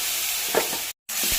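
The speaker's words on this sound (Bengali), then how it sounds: "মাছগুলো ভেজে তুলে রাখলাম আর টমেটোগুলো দিয়ে একটু নাড়িয়ে নেব।" Tomatoes frying and stirred in a kadai after fish was fried in it, a soft continuous sizzle with a couple of stirring scrapes, faint and close, cut by a brief gap of silence.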